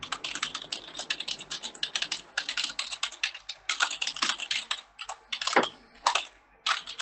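Continuous typing on a computer keyboard, with rapid, uneven bursts of key clicks and short pauses, close and fairly loud, with no voices.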